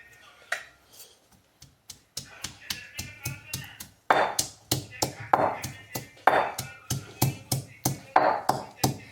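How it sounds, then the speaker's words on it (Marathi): Garlic is crushed by hand, giving a run of close, sharp knocks and thuds that start sparse, then settle into a fast, steady pounding rhythm. "तर आता मी माझं जे लसूण होतं ना ते लसूण वाटून घेते."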